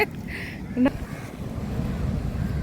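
Sea waves at Sankhumukham beach under a rainy, overcast sky, heard as a broad, continuous low wash and rumble. Gusts of wind buffet the microphone, and a brief faint sound shows near the start.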